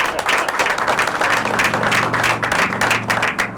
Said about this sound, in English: Big round of applause for the family that made this happen.